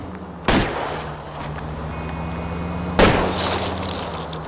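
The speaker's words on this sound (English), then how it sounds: "I'll try to shoot out his tires." Two loud gunshots fired at a fleeing car's tires in a video game, spaced a few seconds apart over a steady engine drone, with no talking.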